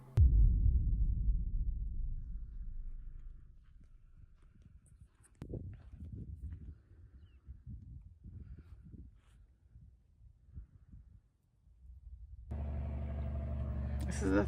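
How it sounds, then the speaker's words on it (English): A logging truck rumbles past close by on a forest road, a heavy low engine drone that swells loudly at the start, fades into softer rustling and scattered knocks, then returns as a steady loud engine hum near the end. "This is the third logging truck I've seen this morning."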